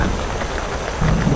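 Heavy rain pours steadily during a stormy night of solo camping, a dense hiss of drops with a low rumble of wind or thunder swelling near the end, close and loud.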